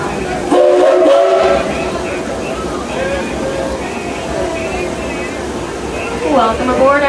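An old-school locomotive on a theme-park railroad rumbles loudly and steadily up close, with people talking over the noise and a brief whistle-like tone near the end.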